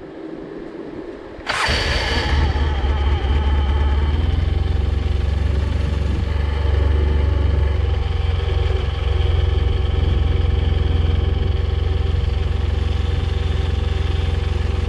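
A Polaris vehicle's engine cranks and catches after about a second and a half, then idles steadily and loudly with a deep, uneven rumble that carries on to the end of the clip, with no voices.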